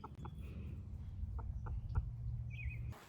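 A chicken on a small farm clucks in several short, close bursts over a low rumbling background, with a brief higher call near the end.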